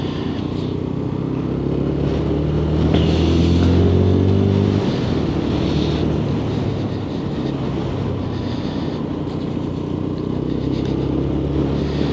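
A Lexmoto Assault 125cc motorcycle ridden around town in Bletchley: a loud, continuous engine drone with shifting revs and a rising pitch sweep partway through, heavy wind and road rumble, no talk.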